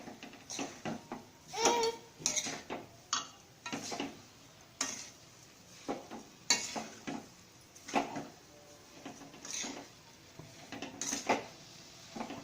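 A spoon clinks and scrapes against a pan while stirring melting sugar for coconut barfi, the metallic taps coming in a steady, irregular rhythm at close range with no other sound.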